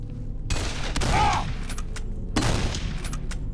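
An enemy opens fire in Condemned: Criminal Origins with loud bursts of gunshots. One volley starts early, another follows a second later, and a third comes near the end, with echoing reports between.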